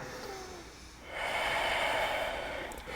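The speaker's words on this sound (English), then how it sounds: "1 big inhale and exhale" A deep, audible breath taken during handstand practice, a quieter intake followed by a louder, sustained rush of air out, close to the mic with no talking.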